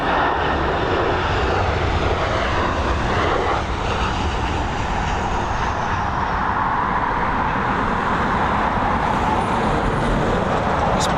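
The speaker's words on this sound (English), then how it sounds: "Some slight adjustments there as it begins its final late stages of descent into Dublin. Here she is, this Boeing 737." A Boeing 737 descends on final approach and lands at Dublin Airport. Its engines make a loud, steady jet roar that fills the whole stretch, with a faint high whine near the end.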